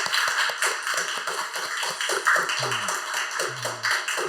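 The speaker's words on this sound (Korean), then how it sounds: "우리 한번 잘 오셨다고 박수로 한번 환영할까요?" A church congregation at a Good Friday service claps in welcome for two visitors, a dense, steady patter of many hands with a few people speaking or calling out over it.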